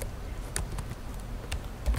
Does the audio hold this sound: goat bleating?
no